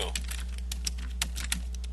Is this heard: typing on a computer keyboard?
yes